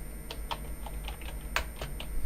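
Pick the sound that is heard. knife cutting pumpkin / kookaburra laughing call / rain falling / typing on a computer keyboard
typing on a computer keyboard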